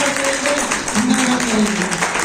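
Audience at a Shri Sen Ji Maharaj Jayanti celebration applauding to welcome a guest, steady dense clapping heard with a voice speaking over it.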